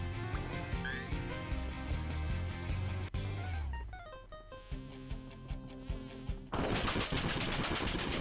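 Automatic turret in Death Road to Canada firing rapid bursts over steady game music, swelling into a dense, loud stretch of fire near the end.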